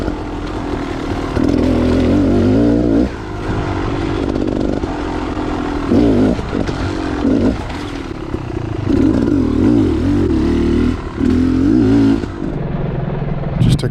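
Enduro motorcycle accelerating along a wet wooded trail, a close buzzing engine rising and falling repeatedly with throttle blips and rattling clatter throughout.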